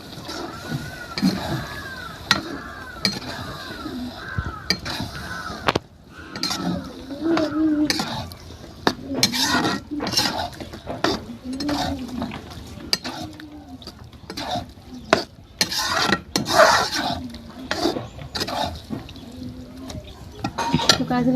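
Mustard greens being tempered and stirred in a pan, with sizzling and scraping clinks of a utensil against metal, while someone talks over it.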